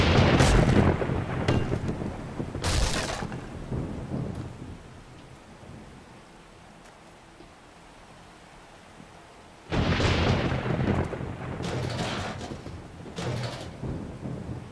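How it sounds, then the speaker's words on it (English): Steady rain pours throughout in the video game 7 Days to Die while loud thunder cracks and rumbles arrive in several bursts, with a quieter stretch of rain between them. "Oh, it's raining!"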